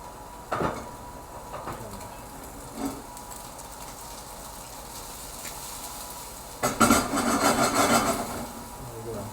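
Chicken and tofu stir-fry in oil in a wok, giving a soft ongoing sizzle broken by a few scraping stirs, then a louder burst of spatula scraping and frying near the end, with brief faint speech.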